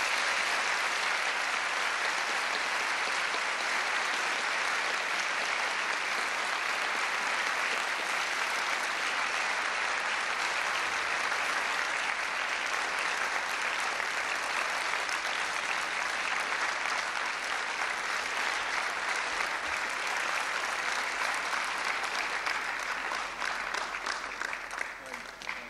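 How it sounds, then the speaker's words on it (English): Sustained applause from an audience welcoming new citizens at a 1993 US naturalization ceremony in a school hall, a dense, steady wash of many hands clapping without pause for about twenty-five seconds, fading slightly at the very end. "Let's give our new citizens another round of applause."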